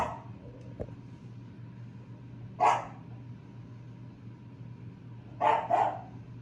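A dog barks once, then twice more in a quick pair a few seconds later, moderately loud over a quiet room hum.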